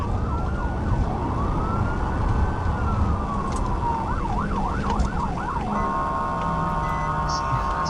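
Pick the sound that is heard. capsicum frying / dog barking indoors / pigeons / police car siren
police car siren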